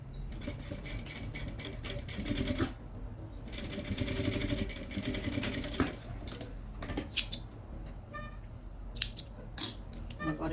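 A sewing machine stitches a Kipling-style pouch in two sustained rapid bursts, followed by scattered clicks and handling noises of fabric and parts, close and moderately loud.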